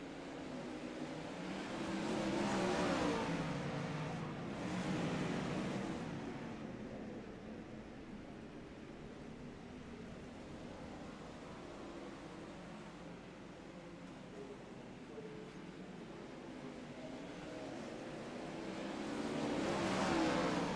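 Wingless sprint cars racing around Volusia Speedway Park, with engines droning and swelling continuously as the pack circles, their roar rising near the start and end and staying loud throughout without speech.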